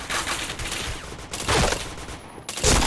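Rapid bursts of gunfire from a mobile battle game, in a live-streamed match full of headshots, crackle in dense volleys throughout, loudest near the middle and end, with no talk over them.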